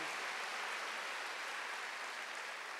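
Faint, distant congregation clapping during a Sunday sermon, a continuous wash of hands heard from far off with no voices over it.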